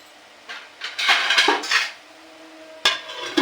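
Metal clanks and rattles as a lid is settled onto a pot of semolina gulab jamun in syrup, a sustained clattering scrape, a pause, then a sharper clank, close by.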